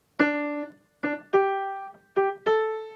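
Five piano notes played in a riff from Grease, starting on D, clear and close, each ringing briefly before the next, with a short gap in the middle.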